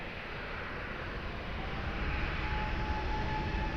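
An airliner's engines roar as it rolls for takeoff on runway 20 at Lisbon Airport, a broad steady rumble that swells slightly louder, heard at a distance with no talk.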